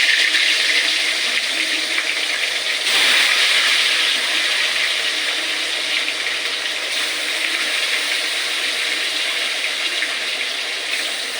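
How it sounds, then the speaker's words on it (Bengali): Katla fish frying in oil in a home kitchen gives a steady, dense sizzling hiss that runs unbroken and fairly loud from start to finish, with no voices. "কাতলা মাছ ভাজা হচ্ছে।"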